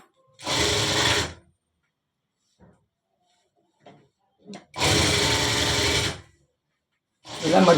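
A sewing machine stitches a folded full-sleeve shirt hem in three bursts: two steady runs of about a second each, separated by quiet handling noises, and a third run starting at the end.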